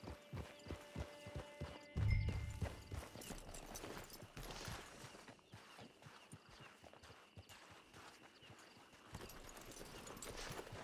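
Horse hooves clip-clop in steady rhythm in the video game Red Dead Redemption 2, quiet and continuous across the whole stretch, with a short heavier burst about two seconds in and faint background game sounds.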